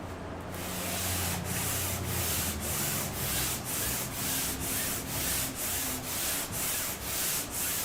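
Sanding a canvas coated with flat white house paint using 400 grit sandpaper, a close, steady scratchy rubbing with regular back-and-forth strokes, alone without talk.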